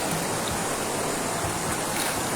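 Outdoor water at Nagcarlan flows in a steady, broadband rush, a continuous wash of running water close to the microphone with no voices over it.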